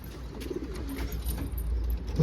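Soft cooing of Alaca Posta pigeons rises and falls through a steady low background, with a brief louder bump near the end.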